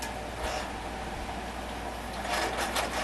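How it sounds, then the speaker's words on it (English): A Brother sewing machine, about 30 years old, stitches in a steady fast mechanical whir and ticking, close and moderately loud, with no voices over it. "Now if you're wondering about my sewing machine is a Brother's."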